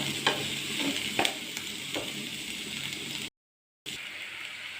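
Sliced onion filling for okra bajji sizzles and gets stirred in a pan, with a few soft scrapes over a steady fry, then a brief silent gap before the sizzling returns.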